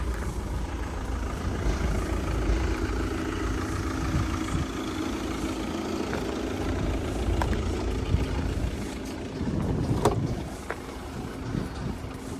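A third-generation Renault Mégane engine idles steadily with a low rumbling hum, continuous and close, with a brief rise in revs near the end.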